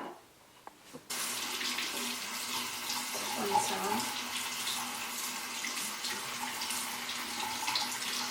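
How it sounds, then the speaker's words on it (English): Tap water runs in a steady, continuous hiss as it rinses the roots and leaves of a potted plant. It starts abruptly after about a second of quiet and stays close and fairly loud. "I'm also going to rinse off the leaves because I've been dealing with pests this winter."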